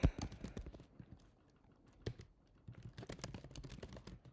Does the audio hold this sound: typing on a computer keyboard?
yes